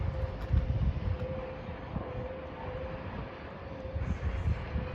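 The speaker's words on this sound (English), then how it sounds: "cross-country train service from Plymouth to Edinburgh." A CrossCountry train from Plymouth to Edinburgh rumbles past Holmes Junction level crossing, a low continuous roar with rhythmic wheel thumps and a steady faint tonal hum, with no voices.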